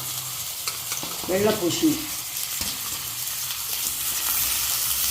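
Mixed vegetables such as pumpkin, taro root, capsicum and sweet potato being stirred and sautéed in a pan for Thanjavur sambar, with a short burst of scraping and sizzling in the middle against a quiet kitchen background, and someone speaking briefly.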